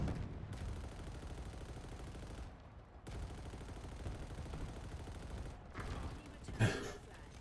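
Dense, sustained gunfire from a Halo Infinite Big Team Battle match, a steady barrage of rapid shots running nearly the whole time with a brief lull, ending in a sharper, louder burst near the close.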